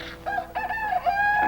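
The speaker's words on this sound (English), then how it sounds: "he decided to get into a crowing match with our rooster" Rooster crowing: a single drawn-out crow with rising and falling pitch, close and clear, lasting under two seconds with no talking.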